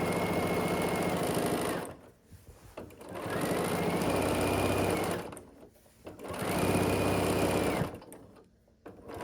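Sewing machine stitching fabric binding onto the edge of a quilt, three long bursts of rapid, even needle clatter close up, separated by short pauses.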